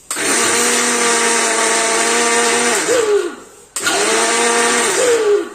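Electric mixer grinder pulverising cooled, cooked chana dal for puran filling, a loud steady motor whine in two bursts separated by a brief pause, each ending as it slows.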